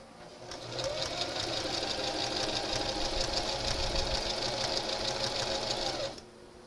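A sewing machine runs steadily for about five seconds, stitching a thin knit fabric strap with a close, loud, continuous whirring drone that starts and stops abruptly, with no talking over it.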